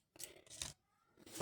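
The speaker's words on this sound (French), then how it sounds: "Et maintenant, je peux couper le blanc." Scissors snipping white yarn during a crochet project, two or three quiet close cuts separated by short pauses.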